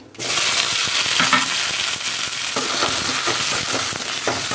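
Mustard seeds, onion, green chili and curry leaves hit hot oil in a pan, setting off a loud, constant sizzle scattered with sharp popping crackles. The sizzle rises suddenly right at the start and continues close up without talk.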